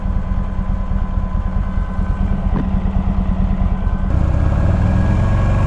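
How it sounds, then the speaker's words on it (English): A cooling fan whirs steadily on a 2009 Buell Lightning XB12SCG motorcycle, blended with the constant low throb of its idling engine. The tone shifts slightly partway through. "Here's the fan again. Hear it?"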